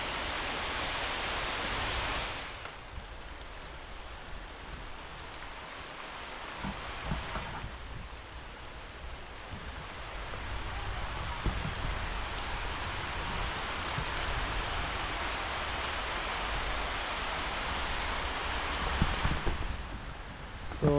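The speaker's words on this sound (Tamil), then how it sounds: "அண்ட் இன்றைக்கி பார்த்தீங்களன்னா மழை பெஞ்சிட்ருக்கு." Steady heavy rain falls outdoors behind a house with a small garden, a dense continuous hiss that swells and eases in intensity, with no voices.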